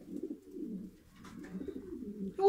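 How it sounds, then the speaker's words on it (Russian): King meat-breed pigeons coo close by, low, soft rolling coos repeating in a slow rhythm with a faint extra call near the end. "интересные голуби"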